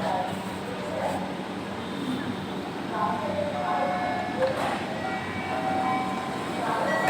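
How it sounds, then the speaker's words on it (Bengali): Steady rumble and hum of a metro rail train in motion from inside the carriage, a continuous even drone with faint higher tones rising and falling, voices murmuring in the background. "মেট্রো রেল দিয়ে যাচ্ছি পল্লবী"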